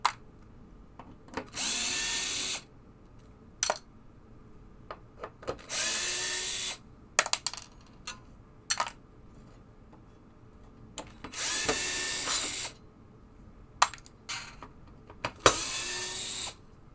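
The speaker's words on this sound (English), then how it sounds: "after taking these couple screws out, we can get this apart" Power drill taking screws out of a Williams Travel Time pinball playfield during teardown: four short whirring bursts spread out with pauses, interspersed with sharp clicks and knocks of handling, close and moderately loud.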